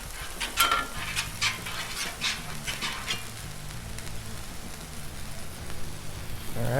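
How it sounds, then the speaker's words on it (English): Tortillas fry in oil on a Blackstone griddle, a soft crackling sizzle with scattered pops and light scraping, fairly quiet and close. "Let's put a little oil down so we get a nice fry on them."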